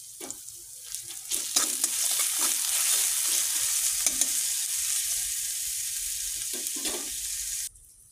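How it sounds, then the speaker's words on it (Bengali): Ginger, garlic and onion paste fries loudly in a hot pan with salt, a steady close sizzle broken by repeated scrapes and stirs of a spoon, then cutting off abruptly near the end. "আদা রসুন পেঁয়াজ দিয়ে দেব। একটু নুন দিয়ে দিলাম, এটাকে কষাবো"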